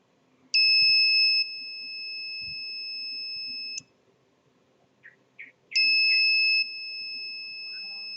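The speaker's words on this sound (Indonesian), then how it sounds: "maka buzzer dan LED akan menjadi aktif." A touch-sensor home security alarm sounds its buzzer in two long, steady electronic tones separated by a pause, with a few short chirps in between against a quiet background.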